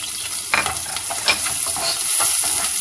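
Onion sizzles in a hot pan of bottle butter (manteiga de garrafa) while being stirred, a close steady crackling fry with occasional scraping strokes of the spoon, no voices.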